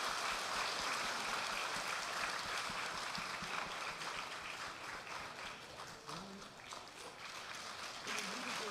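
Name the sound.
congregation applause in church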